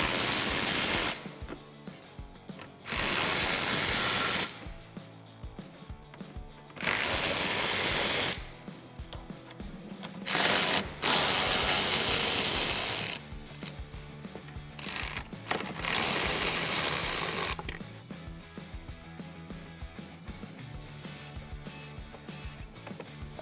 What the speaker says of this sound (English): we're gonna use a ratchet, small extension, and our 10mm socket